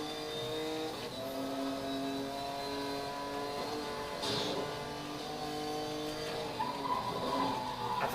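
Engine of a 1995 Lamborghini Diablo SV in the racing game Need for Speed Most Wanted, a steady loud revving drone with layered harmonics that shifts pitch as the car spins its wheels out of a turn, with no talk.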